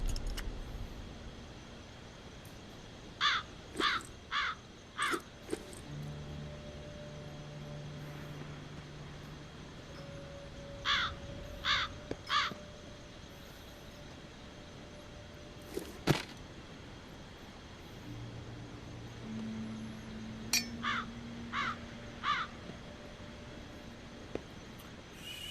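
A bird caws in The Walking Dead VR video game, repeated groups of three harsh calls at intervals over a low ambient drone with occasional tonal game sounds.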